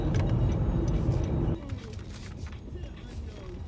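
A car drives along a road, its engine and road noise a steady rumble from inside the cabin, easing lower partway through as the vehicle slows.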